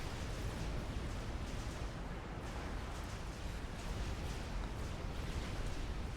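Missile explosions fill a naval combat video game battle as a heavy barrage lands. A dense, continuous rumble of blasts rolls on for the whole stretch, with no talk.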